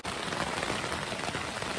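Heavy rain at six in the morning, falling as a dense, continuous hiss and patter on surfaces, loud and steady throughout with no voices.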